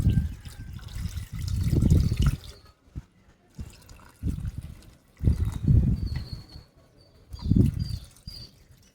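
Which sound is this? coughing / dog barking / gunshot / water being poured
water being poured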